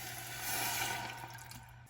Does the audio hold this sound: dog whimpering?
no